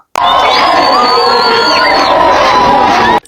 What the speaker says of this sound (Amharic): ይህ ጭብጨባ የደስታ ፈንጠዝያ ጭብጨባ አይደለም፣ ይልቁንም በግፍ ለተገደሉ ወንድማቸው ፍትህ የሚጠይቅ ድምጽ እንጂ